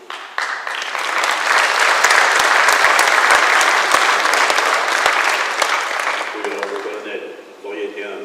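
A crowd at a formal ceremony bursts into sustained, loud applause that swells and holds for several seconds, then fades as a voice begins speaking.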